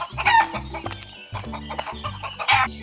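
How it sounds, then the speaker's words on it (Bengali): Chickens on a farm cluck and crow in repeated bursts, with several birds calling close by over about three seconds in a cartoon setting. "তোমার খামারে তো দেখছি অনেক মুরগি।"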